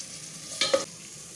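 Green beans hit hot oil with ginger and garlic in a stir fry, a bright crackling sizzle and a short scrape of stirring, close and loud over a quiet hiss.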